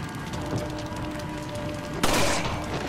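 Gunfire in the survival horror game Resident Evil 4, a low background hum that breaks into a sudden loud, sharp shot near the end.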